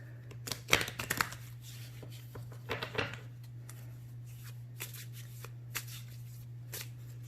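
Tarot cards are shuffled by hand in a quiet room, giving soft, irregular riffling and flicking bursts over a steady low electrical hum.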